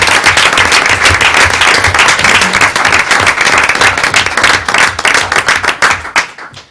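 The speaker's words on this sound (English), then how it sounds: "Let's also give a round of applause to the entire Westfield High School boys" Loud, close applause from a school board meeting audience honoring a high school boys swim team, dense rapid clapping sustained throughout before thinning out and stopping at the very end.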